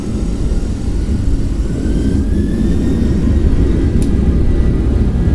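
Airliner engines spool up for takeoff in a flight simulator, a loud, steady, deep jet roar with a rising whine, continuous and close, with no talking.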